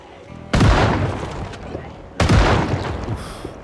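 Two loud, close shotgun blasts in the zombie survival game Project Zomboid, fired against a group of zombies about a second and a half apart, each with a sharp attack and a rumbling decay.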